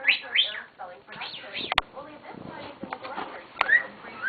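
A pet cockatiel chirps and warbles in short bright bursts, with a couple of sharp clicks, fairly quiet and close indoors.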